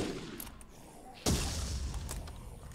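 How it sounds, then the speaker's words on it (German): A thrown grenade explodes in the zombie shooter game Dead Effect. One sudden, sharp blast cuts through a quieter stretch of gunfire and rumbling, and the noise stays heavy afterward. "Dann wollen wir schnell eine Granate schmeißen."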